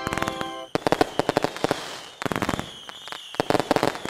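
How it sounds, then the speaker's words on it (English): Fireworks bursting in rapid crackling volleys, loud and close, with dense pops and whistling streaks, pausing briefly between clusters. "then the fireworks go off like a damn celebration?"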